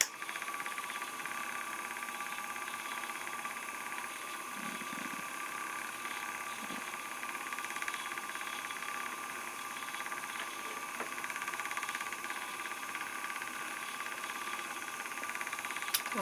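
An EEW Nano 2 electric spinning wheel spins fibre, producing a steady, even motor hum that runs throughout at moderate level with faint handling sounds.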